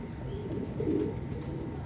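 Pigeons coo in a short burst of soft, low calls, close and fairly quiet, with no one talking.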